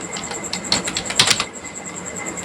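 Fingers type on a computer keyboard in quick, light clicks clustered in a short burst, close and crisp over a faint steady hum, with no voice.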